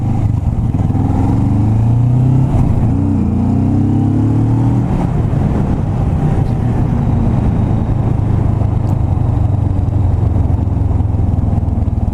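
A Kawasaki Vulcan S motorcycle fitted with an aftermarket exhaust rumbles loudly and close, with a deep steady idle and a few rising revs early on before settling back to a low throb.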